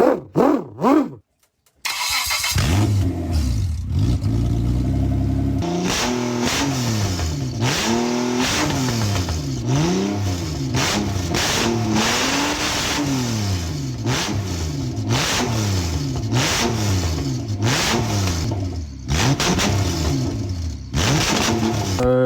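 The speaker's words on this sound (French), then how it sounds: "c'est un moteur qui peut démarrer sans la boîte à vitesse" A Jaguar engine with no gearbox fitted cranks over on the starter, catches after about two seconds, then revs sharply again and again, each blip rising and falling, loud and close with no talking.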